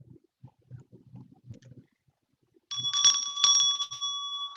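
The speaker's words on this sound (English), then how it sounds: "The clanking of the bell continued." After a few soft low thuds, a small bell rings out clearly and repeatedly for about two seconds, its bright metallic tones clanking in a steady ringing burst during a dramatic theatre reading.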